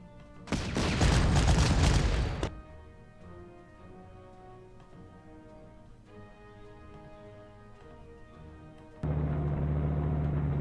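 Artillery fire in the Panzer Corps wartime strategy game, one loud, broad booming blast lasting about two seconds that gives way to a quiet tonal backdrop, then a sudden steady rumble near the end.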